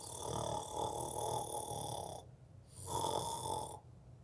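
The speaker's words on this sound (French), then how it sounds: "Annie ronfle." Annie snores in a story, two long loud rasping snores separated by a short quiet breath, close and alone.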